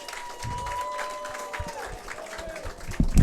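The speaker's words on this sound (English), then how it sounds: "How about a big round of applause?" An audience applauding senior Jake Wiery in a casual setting, a light scatter of claps with some voices, moderately close, swelling louder at the end.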